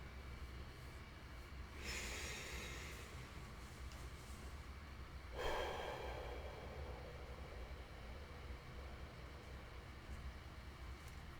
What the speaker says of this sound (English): In through your nose, and out through your mouth.